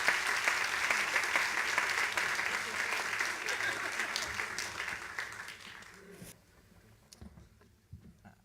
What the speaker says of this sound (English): big round of applause for all of our speakers